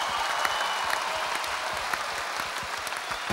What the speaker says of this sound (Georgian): ერთი კარგი ქართული ტაში დაუკრათ